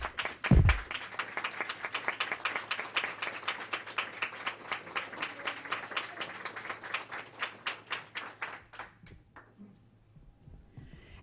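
Applause from a modest audience at a town candidates night meeting, distinct individual claps in a quick rhythm under a low hum, gradually thinning and fading out near the end.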